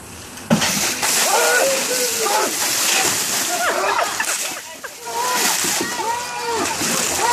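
Ice water dumped from a bucket over a person outdoors, a sudden splash followed by splattering and dripping, under excited voices and shouting.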